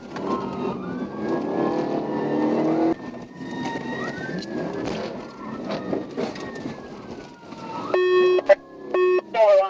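Fleeing suspect's car recorded from a police dashcam during a high-speed chase, with engine revving and tires rushing under radio chatter and talk, ending in short electronic siren yelps.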